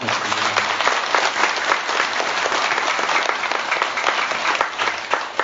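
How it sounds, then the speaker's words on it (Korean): Audience applause of thanks at a Buddhist dharma talk by a visiting monk at Jeungsimsa temple on Mudeungsan, a dense, steady clapping from a large seated crowd, loud and continuous throughout with no voices over it. "스님께 다시 한번 큰 감사의 박수 부탁드립니다"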